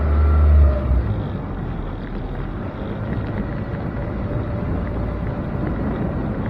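Car driving at night through a town area in Mandeville, Manchester, Jamaica, giving a steady low engine and road rumble with wind noise, a brief louder swell at the start, then continuous and even throughout.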